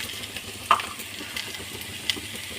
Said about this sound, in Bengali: ওর সাথে এবার ভেজে রাখা তেলটা দিয়ে দেব। 1 চামচ লঙ্কা গুঁড়ো, হলুদ গুঁড়ো